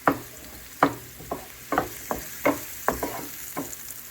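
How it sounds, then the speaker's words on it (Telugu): Onions and carrots fry in oil in a pan for carrot and paneer rice. A spoon scrapes and taps in a regular rhythm of about two strokes a second over a low, constant sizzle, with no talking. "కొంచెం ఆనియన్స్ పచ్చివాసన పోయేంత దాకా వేయించుకోవాలి"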